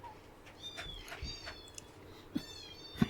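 Cat meows in a fantasy tabletop role-playing game session, a few short separate cries spread over a few seconds, moderately faint against a quiet room background.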